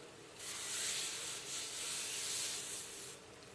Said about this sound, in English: And then I will just wipe around, coating the cast iron with butter.